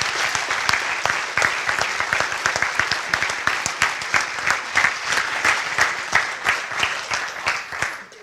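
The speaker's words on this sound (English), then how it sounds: "so I can give them all a round of applause right now" Close, lively applause from a conference audience for student volunteers at closing remarks, many hands clapping in a fast, even patter with a few sharper individual claps standing out before it tapers off.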